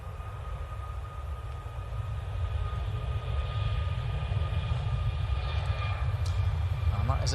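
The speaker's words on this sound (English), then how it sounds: "that is a TUI Max to Banjul" A TUI Boeing 737 MAX airliner bound for Banjul in the Gambia, heavy with fuel, lines up and departs Manchester Airport, a steady distant jet roar building slowly over a low rumble.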